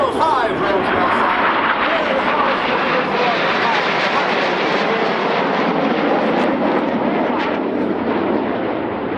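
Red Arrows display jets performing rolling manoeuvres at an airshow, a loud, continuous roar of jet engines that holds steady throughout and drowns out any other sound.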